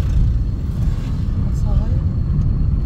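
Steady, loud road rumble from inside a moving car as it overtakes another vehicle, a dense low roar that barely changes over a few seconds, with a faint voice briefly audible.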